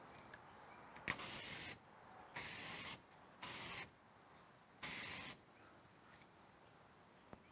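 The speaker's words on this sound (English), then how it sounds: "So I'm going to put one thin mist coating from about 30 centimeters away onto that" An aerosol can sprays a thin mist of release agent from about 30 centimetres away in four short hissing bursts of about a second each, close and steady, with quiet gaps between.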